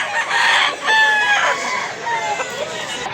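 A Dirty Grey Hats bloodline gamecock in Mantalungon, Cebu crows once in a long, strained call, close and loud, followed by softer clucking and chatter.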